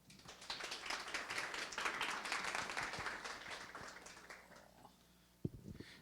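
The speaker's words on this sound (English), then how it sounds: "So please give him a round of applause." An audience at a meetup tech talk claps for an arriving speaker, a dense burst of applause that fades over several seconds and ends with a single sharp knock, with no talk.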